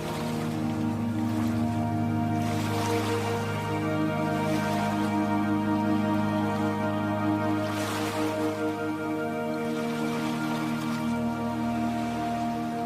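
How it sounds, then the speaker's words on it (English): Ocean waves wash in a continuous, soft surge under a sustained musical drone, with gentle swells rising and falling throughout. "Perhaps you gently move your body with the sound of the waves,"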